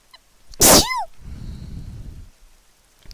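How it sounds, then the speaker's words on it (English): One sharp, loud sneeze bursts out close by, followed by a quieter sniff and faint background rustle. "sneezes. They snuck up on me."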